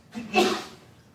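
A single short, breathy sneeze, close and moderately loud, fading out quickly.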